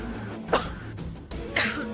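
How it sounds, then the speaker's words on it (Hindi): A woman coughs twice in a TV drama scene, two short bursts about a second apart over a low steady room background, with no speech. "तुम इतना क्यों खांस रही हो"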